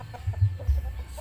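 Chickens kept as farm livestock cluck in short, close, irregular bursts, a few soft notes stacked quickly together.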